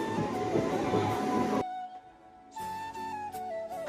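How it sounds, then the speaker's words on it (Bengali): A crowded Kharagpur local commuter train runs along, heard from inside as a steady, loud rumble that drops to a brief quieter lull midway before a whining tone and the clatter return. "ট্রেন ছুটে চলেছে আর গাছগুলো যেন পেছনের দিকে ছুটে ছুটে চলে যাচ্ছে"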